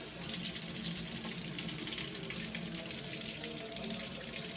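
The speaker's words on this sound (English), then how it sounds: "we'll just put it under the water" Tap water runs from a faucet onto a pan in a sink, a steady close hiss and splash with no break and no talking.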